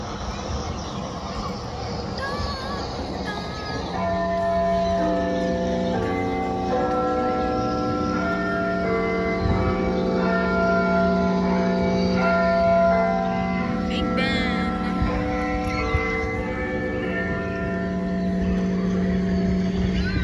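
The Big Ben bell in the Lego Elizabeth Tower at Legoland, a loud sustained bell chime with long ringing overtones that fill most of the stretch over faint outdoor park ambience.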